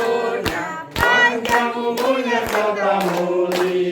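A group claps rhythmically while singing a birthday song at a parish community gathering, with crisp, evenly spaced claps about twice a second beneath the singing voices.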